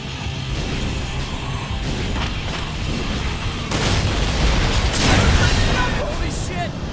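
Thruster explosion on a train in the video game Sunset Overdrive: a loud, continuous barrage of booming blasts and crackling bursts that swells and peaks midway, dense and rumbling throughout.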